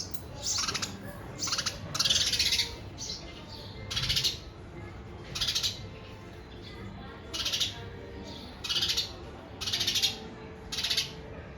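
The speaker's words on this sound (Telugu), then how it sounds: "బాల్కనీలో అలా స్పారోస్ నెస్ట్ పెట్టాయన్నమాట. అక్కడే బర్డ్స్ ఉంటాయి." Sparrows chirp at a nest on a balcony in repeated bursts of bright, close twittering, nine or ten rhythmic bouts with short pauses between them.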